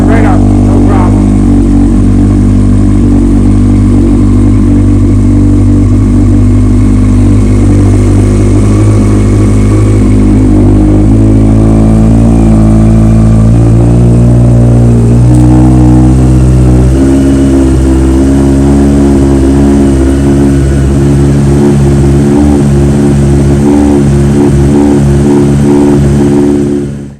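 A Yamaha R1 sport bike fires up on choke and settles into a loud, close, continuous running note, its pitch stepping and shifting as the engine warms, with no talk over it.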